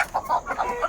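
Chickens in a poultry shed on a native hen farm let out a quick run of several clucks, moderately loud and close, with no talk over them.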